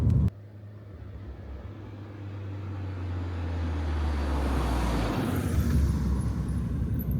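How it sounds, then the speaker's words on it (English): A Mini's engine revs while driving, a loud, close, low drone that climbs steadily in pitch as the car pulls away, with road rumble underneath and no talking. "Plenty of revs, gentle with the clutch. Oh, just got it going."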